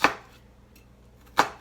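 A knife cuts the end off an onion on a cutting board, with two sharp, close chops about a second and a half apart and quiet between them.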